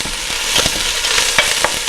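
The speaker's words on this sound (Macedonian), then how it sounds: "Ќе го испржиме убаво кромидот" Chopped onion frying in oil in a pot for Macedonian spinach, a steady close sizzle with a few brief scraping stir clicks over it.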